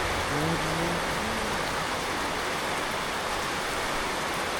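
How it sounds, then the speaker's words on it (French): Dense, steady hiss of heavy rain pouring down without a break in Colombia, by the Güejar River, with a faint voice murmuring briefly at the start. "Un merveilleux temps, une pluie diluvienne."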